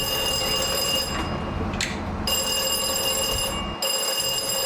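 A steady electronic bus door sensitive edge alarm tone rings continuously over a low mechanical rumble, briefly interrupted twice before sounding again.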